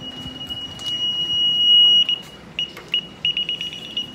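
A household alarm being switched on gives high electronic beeps, first a sustained tone and then a run of short, evenly spaced chirps, close by over a quiet room.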